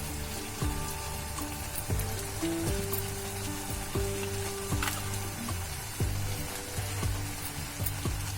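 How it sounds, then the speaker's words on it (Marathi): Leafy kulu bhaji is added to a hot pan and fries with a loud, close sizzle, punctuated by repeated stirring scrapes and clanks from utensils against the pan. "आता आपण यामध्ये भाजी टाकणार आहे"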